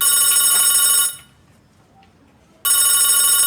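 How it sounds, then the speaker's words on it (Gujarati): A telephone rings for an incoming call, with a loud electronic ring burst, a short pause of near silence, then the ring starting again. "ત્યાં ભમતાજીનો ફોન આવ્યો છે."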